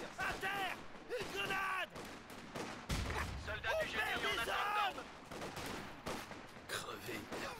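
German machine guns fire in bursts during a 4v4 D-Day WWII strategy game tournament match, a steady crackle of gunfire under continuous commentary by voices talking.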